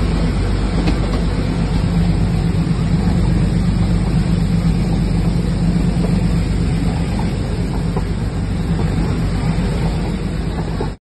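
The Ooty to Coonoor toy train runs with a loud, continuous rumble and a rattle of carriages, heard from on board. No one speaks.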